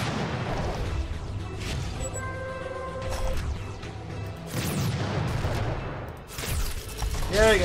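Units firing in the strategy video game Codex of Victory: a dense barrage of booming artillery and gun blasts with mechanical clanks, steady and loud throughout, building toward heavier bursts near the end.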